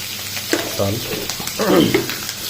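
Beef chow mein with mushrooms and salt frying in a pan, a close hiss of sizzling with a few stirring scrapes and clinks, while a voice speaks faintly in the background.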